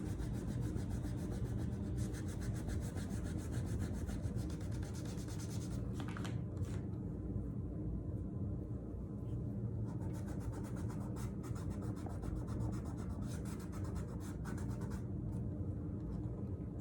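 Steady, soft rubbing and scratching as paint is worked off a wooden fall sign by hand, a close, continuous dry friction with a few brief pauses.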